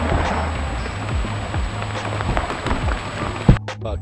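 Heavy rain pours down during a fishing outing with a half-ounce silver chrome spoon lure, a dense steady hiss of drops close by, with a sharp knock near the end.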